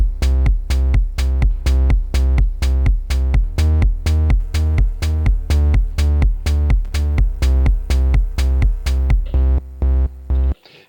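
A simple repeating pattern from an Elektron Digitakt 2 drum machine and sampler plays loud and steady, with evenly spaced pitched hits pulsing in a tight rhythm before cutting off near the end.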